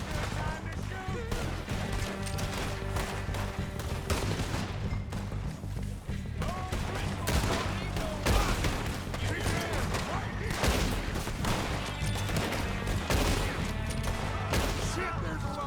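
Gunfire in a Red Dead Redemption 2 shootout, dense volleys of shots and booms running continuously under a loud music-like bed, with voices talking over the action.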